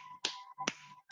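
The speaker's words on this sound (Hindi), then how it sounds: "एक उंगली से जोरदार ताली बजाएं" Sharp finger snaps or single-finger claps, three crisp dry cracks evenly spaced in a quiet room, close and alone with no talk.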